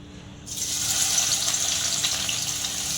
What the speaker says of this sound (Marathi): कढईत तेल तापत ठेवून कांदा परतून घेऊयात